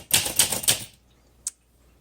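Keys of a 1963 Olympia SM5 manual typewriter strike in three quick, crisp clacks close up, followed by silence and one lone tap.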